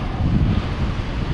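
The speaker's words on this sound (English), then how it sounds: "As you can see, we've got wind out here." Steady wind buffets the microphone out on open water during hydrofoil wing riding, a loud low rumbling roar with no other sounds.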